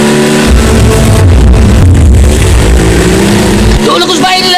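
A motorcycle in a Bisaya drama scene, its engine revving loudly and pulling away over a steady roar that thins out near the end, with voices mixed in.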